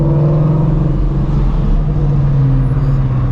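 A Coyote-engined Ford Mustang revs hard and accelerates nearby with a steady, loud, deep engine roar that holds for several seconds.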